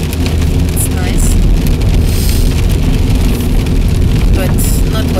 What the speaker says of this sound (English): I think you guys can hear the rain again, huh?